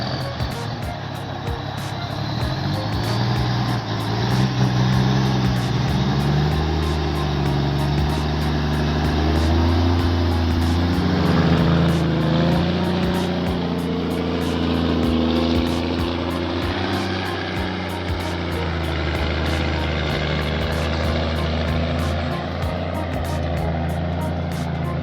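A heavy logging truck shifts gears and works its engine through a slippery curve, a loud continuous low diesel roar with changing pitch as it changes gear, steady and close throughout.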